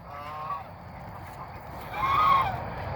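Farm ducks honk and call at sundown, a few nasal squawks rising to a louder burst of honking near the end over a soft outdoor background.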